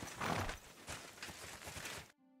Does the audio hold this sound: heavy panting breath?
no